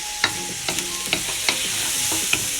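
Vegetable patties fry in a pan with a steady bright sizzle, while light utensil clicks and scrapes tap in at irregular intervals.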